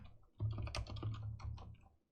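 Code is typed on a computer keyboard in a rapid, steady run of close, crisp key clicks lasting about a second and a half, with no talking.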